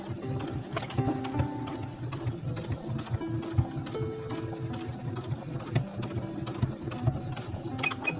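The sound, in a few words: sewing machine sewing closed a quilt pouch's turning opening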